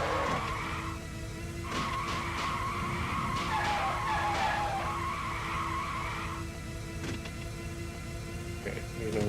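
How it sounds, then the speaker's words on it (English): Tires squeal and screech continuously as a car skids and slides in a racing video game, a loud sustained whine over steady engine drone with brief pitch swoops, no talking. "And the tire screech noise is really not good."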